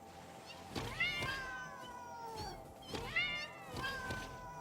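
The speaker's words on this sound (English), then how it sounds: "And these fucking cats!" Cats meowing in a series of drawn-out, wavering calls, roughly four distinct meows close by, with a faint background hum between them.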